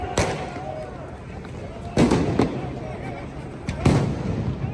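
Sharp firework bangs during a street riot, three loud reports spaced about two seconds apart, each with a brief crackle, over a busy crowd murmur.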